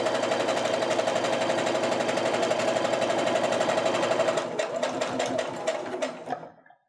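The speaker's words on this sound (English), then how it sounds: "I also am going to make sure to sew one needle width to the right of where all those points come together" A domestic sewing machine runs a continuous fast stitch across quilt half-square triangles, close and loud, then slows into a few separate stitches before stopping.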